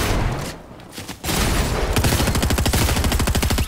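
Rapid automatic gunfire in the video game Fortnite, loud and close, a dense fusillade of evenly spaced shots filling the second half after a brief lull, with heavy game noise before it.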